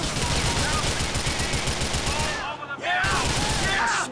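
Sustained rapid automatic gunfire from shooting enemies in Grand Theft Auto, loud and continuous for about two seconds, a brief lull, then more bursts with a short tonal game sound mixed in.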